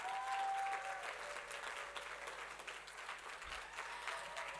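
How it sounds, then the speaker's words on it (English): Audience applauding the fourteen Heroines of Health award winners at an evening ceremony in Kigali, Rwanda: a steady, dense wash of clapping from a sizeable crowd, loud at the start and easing slightly but sustained throughout, with no talk over it. "Round of applause for the 14 Heroines of Health that we have recognized tonight."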